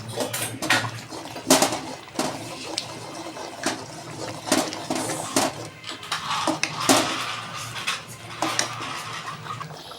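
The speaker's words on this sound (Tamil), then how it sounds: "கிளறி விட்டு இறக்கிடலாம்." A spoon stirs chana masala in a metal pot, making repeated clinks, knocks and scraping strokes in an irregular rhythm over a low background hum.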